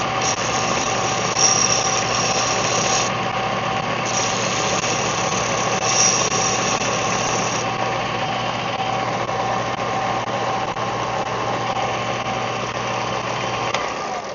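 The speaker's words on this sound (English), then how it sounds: "today's Dale's Tool of the Day video is on this belt sander. It's a Skill brand." A Skil belt sander runs with a steady, continuous motor whine and buzz, even and unbroken throughout, at a moderate level with no talk.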